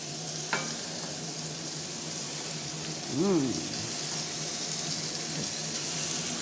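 Meat sizzles and crackles as it is added to a hot pan, with a brief clatter of a utensil and a swell of frying partway through. The sound is close and continuous.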